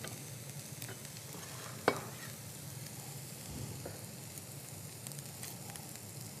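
Onions being stirred in a frying pan for a chicken dish, a steady soft sizzle with scraping stir strokes and one sharp utensil tap near the start, no talking.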